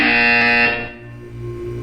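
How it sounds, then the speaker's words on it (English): Buzzer in the video game Portal 2, a single loud harsh electronic tone lasting under a second, then cutting off into low humming background tones. "You will hear a buzzer."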